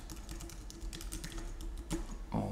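Someone typing an email address and password on a computer keyboard, with rapid close key clicks in quick bursts and a louder keystroke near the end.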